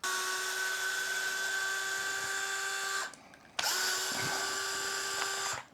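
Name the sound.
power driver removing screws from Traxxas Slash RC bumper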